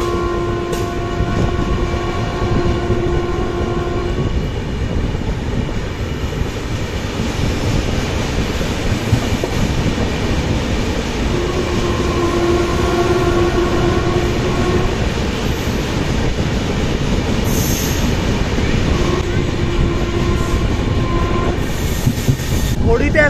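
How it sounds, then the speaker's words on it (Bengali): Steady rumble and rattle of the Pune Santragachi Humsafar Express passing Wardha Junction without stopping, heard from inside a third AC coach, with sustained horn-like tones, faint wheel squeal and brief knocks. "আমাদের ট্রেন এই জাস্ট স্কিপ করলো ওয়ার্ধা জাংশন"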